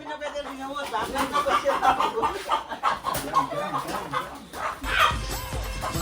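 A village country rooster clucks in short, repeated bursts close by, mixed with people talking and chuckling over it.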